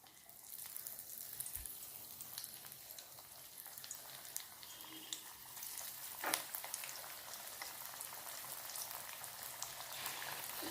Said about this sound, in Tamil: அடுப்பில் ஒரு கடாய் வச்சு எண்ணெய் ஊற்றி சூடு பண்ணோன்னா இதை உருட்டி வச்சு இதை ஒரு ப்ரெஸ் பண்ணி எண்ணெயில்